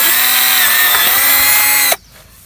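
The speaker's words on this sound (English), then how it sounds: "now we're going to drill the first hole" A power drill whirs loudly and steadily as it bores a hole in a plastic bin being made into a hamster cage, then cuts off abruptly near the end, leaving quiet.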